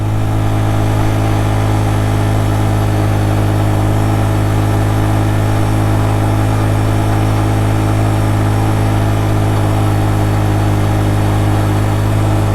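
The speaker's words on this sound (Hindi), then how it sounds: "ले जी आखिरी किलोमीटर 1-2 चल रहा है बस और पहले गियर में जा रहा है बाइक आहिस्ता आहिस्ता" 150cc motorbike in first gear climbing slowly up a steep mountain road toward Babusar Top, a steady, loud, continuous engine drone with no variation.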